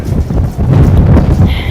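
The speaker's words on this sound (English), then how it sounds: "it's so windy" Strong outdoor wind buffets the microphone on a New York City street, a loud continuous low rumble and roar with gusty swells and no clear speech.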